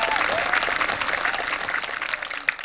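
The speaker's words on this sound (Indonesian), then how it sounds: "Sekali lagi tepuk tangan yuk kita untuk Candi Borobudur." Crowd of children and adults applauding outdoors in front of Borobudur temple at a school quiz event, a dense continuous roar of clapping that holds steady and tapers slightly at the end.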